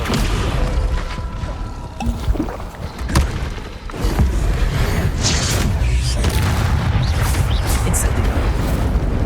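Heavy slamming spell impacts from Hogwarts Legacy combat, a deep boom near two and four seconds with rumbling debris and clatter continuing loud throughout, voices shouting spells over it.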